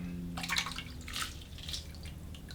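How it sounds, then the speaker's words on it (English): Corn tipped into a pot of hot water while cooking a Cotija cheese veggie soup, giving a few quick splashy, watery bursts close by over a low kitchen hum, with no talking. "I'm gonna go ahead and put my corn into the hot water"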